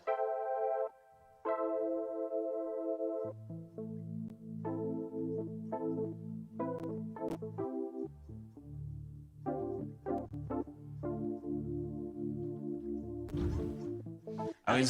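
A synthesizer known as the 60, played with sustain and warm chorus, sounds a series of held notes and chords with short gaps, some clicky attacks and a brief noisy burst near the end.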